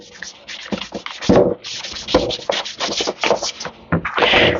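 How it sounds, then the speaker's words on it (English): A fiberglass foot tub from a 1977 Honda FL250 is sanded by hand, with repeated rough rubbing strokes in an uneven rhythm, loud and close with brief pauses between passes. "So it's just sand, sand, sand, sand."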